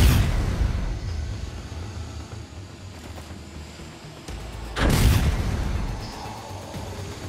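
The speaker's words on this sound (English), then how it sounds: "There's a ton of explosions going on." Rumbling explosions in the video game Dying Light 2, a heavy boom at the start and another loud blast midway, over a continuous noisy battle din.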